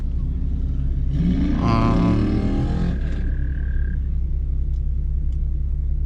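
A car engine with shorty headers, ported upper and lower intake and a tune revs once, the pitch climbing and falling over about two seconds above a steady, close, loud idle rumble that continues alone afterward.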